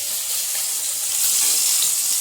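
Food fries in leftover oil in an induction-base wok, making a bright, steady hiss and sizzle close by that swells slightly toward the end.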